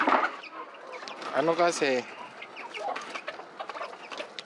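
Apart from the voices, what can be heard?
chickens clucking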